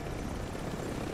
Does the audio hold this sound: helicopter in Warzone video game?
yes